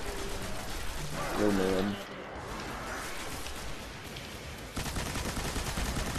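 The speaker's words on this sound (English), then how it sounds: "I'm gonna try this new machine gun that I have on the ogre" Machine gun fire against an ogre in the Destiny video game, a steady stream of shots underneath a man's brief exclamation, continuing loud and dense to the end.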